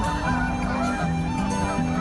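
Canada geese honk repeatedly over a dense, noisy outdoor background, with overlapping nasal calls from several birds rising and falling in a continuous chorus.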